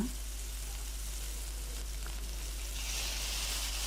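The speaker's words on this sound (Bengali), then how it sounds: "একই কড়াইয়ে দিয়ে দিচ্ছি এক টেবিল চামচ পেঁয়াজ বাটা" Onion paste sizzling in a kadai after rui fish has been fried in the oil, a soft steady hiss throughout with a low constant hum underneath, no talking.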